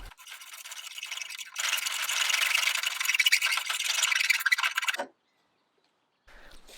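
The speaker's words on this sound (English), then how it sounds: "And a little bit of scraping." Steady rough scraping of paint off oak wood for several seconds, a dry rasping rub that stops abruptly, followed by near silence and a faint brief sound.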